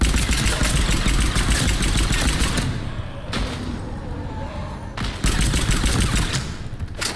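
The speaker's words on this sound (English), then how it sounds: "Foxtrot and Bravo are taking heavy fire" Heavy gunfire in a dense, continuous machine gun fusillade, loud and close, easing briefly midway before surging back at full intensity.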